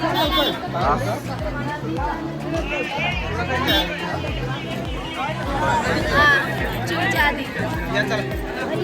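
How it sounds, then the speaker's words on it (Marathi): Large crowd at the foot of Jejuri temple, a dense, steady babble of many voices with footsteps and movement throughout, close and loud, with nearby people talking over the hubbub. "आता पायथ्याजवळ पोहोचताच भरपूर अशी गर्दी आहे"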